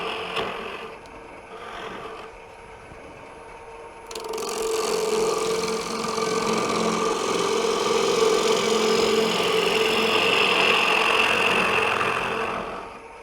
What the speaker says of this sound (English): I'm going to use a 1/2-inch bowl gouge. Just kind of take it out real easy.